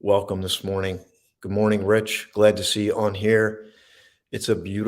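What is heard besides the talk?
No everyday noises stand out.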